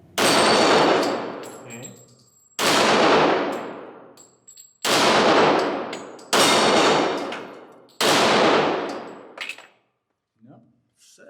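Five loud, sharp shots from a Rock Island Armory M1911 Pro Ultra Match .40 S&W handgun, spaced about two seconds apart, each ringing out with a long decaying echo, followed by a brief spoken word.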